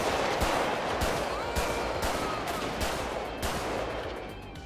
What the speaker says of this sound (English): Now we're getting shot at from behind.